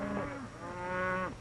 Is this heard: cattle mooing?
yes